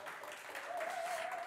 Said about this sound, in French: vous pouvez encore les applaudir très fort